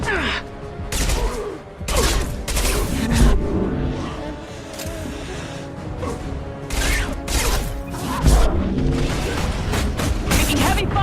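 Heavy gunfire and explosions from a Mass Effect 2 firefight, with dense, continuous bursts of shots and loud booming impacts throughout, mixed with game music and background chatter.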